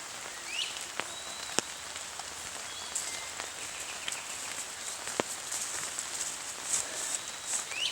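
Light rain patters steadily on a camp shelter outdoors, a soft continuous hiss punctuated by occasional sharper drips and taps, with faint distant bird chirps.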